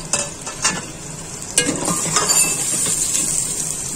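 Two large sliced onions dropped into hot ghee and oil, a bright loud sizzle rising after a few sharp clatters and scrapes, then a steady crackling hiss without voices.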